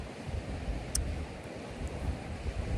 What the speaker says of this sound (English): especially in the windy conditions like this